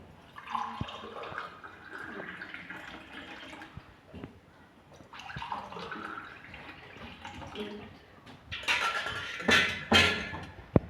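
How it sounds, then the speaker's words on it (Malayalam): Lime juice is strained and trickles and splashes into a glass in two gentle pouring stretches, followed by a louder, splashier pour at the end. "ഗ്ലാസ്സിലേക്ക് ഒഴിക്കുമ്പോൾ നന്നായിട്ടൊന്ന് അരിച്ചൊഴിക്കുക."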